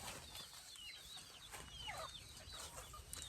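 Free-ranging native chickens peck around outdoors, giving off soft, scattered clucks and chirps, with a brief flutter of wings, all faint and distant over a quiet background.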